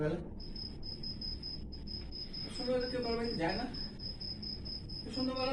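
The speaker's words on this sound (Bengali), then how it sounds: "তো চারিদিকে ঝিঝি পোকার ডাক শোনা যায়" Crickets chirp as a stage sound effect during a theatre festival performance, a steady high continuous trill running beneath someone speaking throughout.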